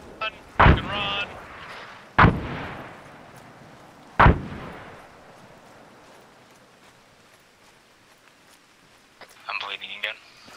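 Mortar rounds in Arma 3 strike as three loud, sharp booms spaced about two seconds apart, each leaving a brief rumbling tail. A quieter stretch follows, then a short burst of other noise near the end.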